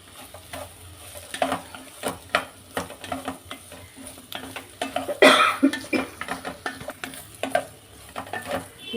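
Radish chutney with tamarind and turmeric fries in a pan, stirred with repeated scraping strokes over a steady sizzle, close and fairly loud, with one louder clatter midway and no one speaking.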